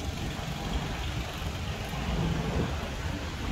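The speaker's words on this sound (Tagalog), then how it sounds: "Maulan kasi yung panahon" Steady, dense patter of rain falling outdoors, a continuous broadband wash with no voices, fairly close and even in level throughout.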